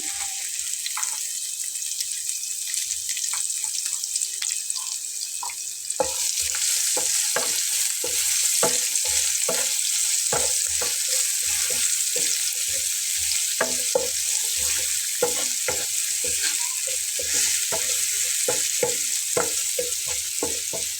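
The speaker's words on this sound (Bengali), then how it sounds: "এখন আমি তেলের ভেতরে পেঁয়াজ কুচিটা দিয়ে নেব দেখুন এই যে তেজপাতাটা দিয়ে নিলাম" Chopped onion and bay leaf frying in oil for an egg curry: a softer sizzle at first, then a louder, denser hiss with a steady run of sharp scraping stirs against the pan, no talking.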